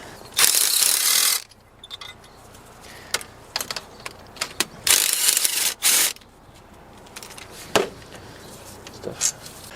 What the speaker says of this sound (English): I'm going to go down to an extension and loosen these up by hand first